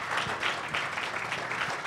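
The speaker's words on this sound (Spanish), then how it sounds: "un aplauso para el maestro Antonio Elguera, caray." Applause for a cartoonist at a live show, a brief burst of steady clapping from an audience lasting under two seconds.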